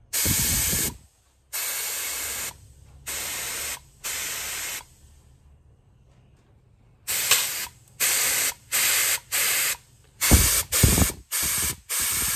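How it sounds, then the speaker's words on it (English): Compressed air at 40 psi hisses out past the rear main seal of a Holden grey motor, in a run of loud, sharp spray-like bursts of about a second each, separated by short pauses, with faint mechanical clicks between and no talk. "I can see air coming out of there now at 40."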